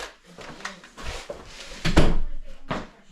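A newly fitted door, the apprentice's first, is swung open and shut, giving a few soft wooden clunks and latch sounds that are moderately loud and close.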